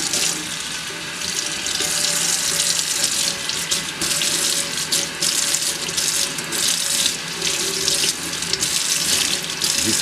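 A kitchen tap runs steadily while a chef knife is rinsed under the stream, a loud continuous splashing and gurgling of water in the sink with small shifts as the blade moves through the flow.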